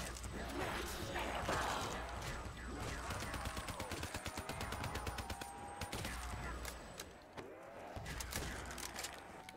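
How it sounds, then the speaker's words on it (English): Rapid bursts of ray gun fire in Black Ops 3 Zombies, a dense run of sharp repeated shots with mechanical clatter layered over the game's din, continuing through most of the stretch. "Shoot the ray gun"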